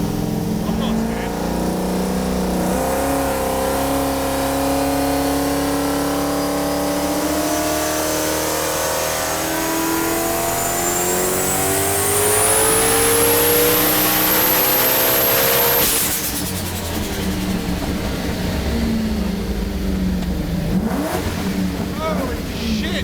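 A 1000-horsepower Toyota Supra with a rear-mounted turbo V8 revs hard and accelerates, its engine note climbing steadily under a rising turbo whine before backing off. The sound is loud and close throughout, with a voice heard beneath the engine.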